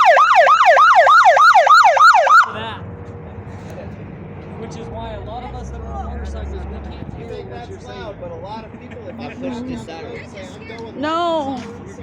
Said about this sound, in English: Turn the siren on that side, he's right there.